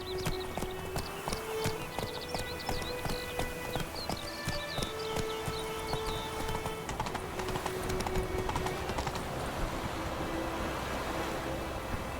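Hooves of a galloping horse in The Witcher 3 video game, a steady rhythmic clip-clop running the whole time under game music and ambient tones, fairly close and continuous.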